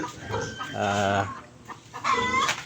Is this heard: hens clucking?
yes